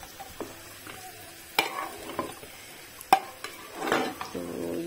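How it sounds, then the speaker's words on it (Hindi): Onion tadka sizzles in hot oil while being stirred, with close, steady frying hiss broken by several sharp scrapes and clinks of a spoon against the pan, and no talking. "थोड़ी सी प्याज से ऊपर से लगाना है इसमें तड़का, प्याज का तड़का"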